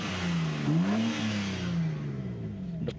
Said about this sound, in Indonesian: kita tekan dulu di M2 nya sebelum di starter, kemudian baru kita starter, itu blipnya buka.